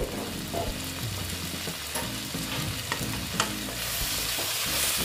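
Bata fish sautéing in a pan gives a loud, continuous sizzle, with repeated scraping and knocking from stirring throughout.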